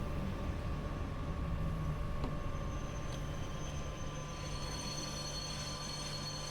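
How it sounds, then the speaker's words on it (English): A BR Class 87 electric locomotive train slows toward a stop at a station platform, giving a steady, loud whirring hum over a deep rolling rumble that continues unbroken throughout, with no voices. "Train is reluctant to slow down here and to actually stop at the end of the platform."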